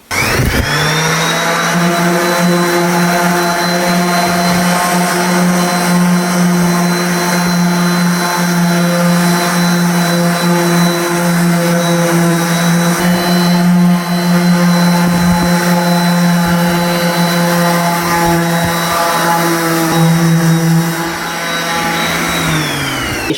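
An orbital sander runs steadily against drywall, a loud, close, continuous motor whine with a strong buzzing hum and a gritty rasp that holds for over twenty seconds before easing slightly at the end, with no talking.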